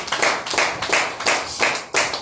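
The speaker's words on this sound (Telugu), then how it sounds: "Once again claps." Audience clapping at an awards ceremony held at Rabindra Bharathi, in repeated bursts of applause that swell and fade roughly every third of a second, close and lively.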